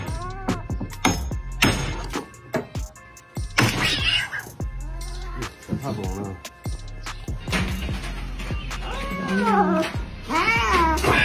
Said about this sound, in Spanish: No sé cómo este pobre gatito terminó con la cabeza atrapada en el sumidero de este jacuzzi,